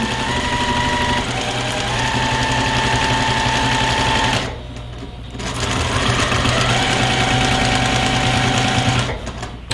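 A sewing machine runs a long overlapping seam on a cross-stitch pillow, its steady mechanical whir lasting most of the time, with a short pause in the middle before stitching resumes at the same even pace.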